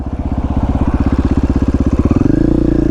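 A KTM XR80 dirt bike engine runs close by with a fast, steady pulsing throb that climbs into a higher, smoother rev near the end of a short burst.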